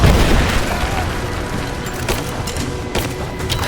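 Gunfire and explosions in the video game Rise of the Tomb Raider: a loud booming blast at the start, then rattling shots and scattered thuds during a combat scene.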